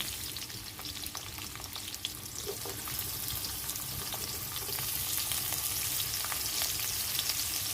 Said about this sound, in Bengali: তারপরে দেব পেঁয়াজ কুচোনা